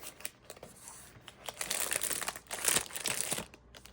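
Thin double-sided inkjet presentation paper, about as flimsy as copy paper, is handled up close, giving a steady run of crisp crinkling and rustling that swells in the middle and stays alone without talk.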